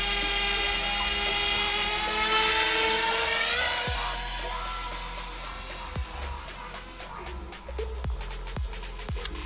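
A small hobby selfie drone flies close by, its propellers giving a steady high-pitched whine that shifts in pitch, with a few soft clicks and no talking.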